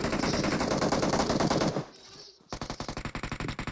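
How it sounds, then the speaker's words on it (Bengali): Automatic gunfire in the mobile battle royale game BGMI on the Livik map, dense rapid bursts that break off briefly, then resume as a string of evenly spaced loud shots. "আমার উপর গুলি চলছে।"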